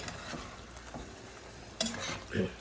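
Flat beans fry in a spice paste made for snakehead fish, with a pan sizzling steadily while a spoon scrapes and stirs in a few irregular strokes, close and clear.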